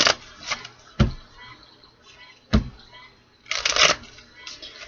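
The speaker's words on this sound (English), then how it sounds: "Let's do 2 more shuffles." A deck of tarot cards is shuffled by hand in a few short, crisp riffling bursts separated by quiet gaps, close and fairly soft.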